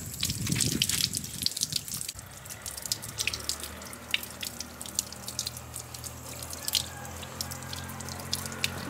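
Water runs from a tap while hands are washed, a steady close splash with drips and rushing flow after a short louder start.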